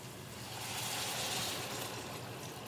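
Chicken stock being poured into a pot of garlic butter chicken, a soft, steady stream of liquid that swells slightly in the middle, faint and without talk.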